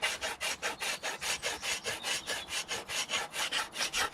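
A fine-cut rasp works a wooden axe handle in steady back-and-forth strokes, about four per second, each a bright scraping rasp, close and even, with no talk.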